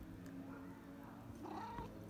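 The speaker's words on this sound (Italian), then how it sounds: "Questo è uno dei miei gatti." A cat gives a short, faint meow near the end, over steady outdoor background noise beside a country road with freshly ploughed fields.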